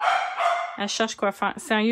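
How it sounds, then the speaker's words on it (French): A pet dog yaps repeatedly at close range, high and insistent, heard under and between a woman's French speech in a home setting. "je suis vraiment désolée pour mon chien qui arrête pas de japper."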